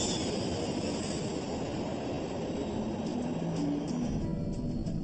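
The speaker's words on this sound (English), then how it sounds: "At 9:57 a.m. local time, Qantas 32 lifts off right on schedule." A Qantas Airbus A380 on its takeoff run, a constant heavy broadband roar of jet engines, loud and unbroken throughout, with faint higher whines drifting in toward the end.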